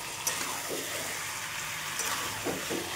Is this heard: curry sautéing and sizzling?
yes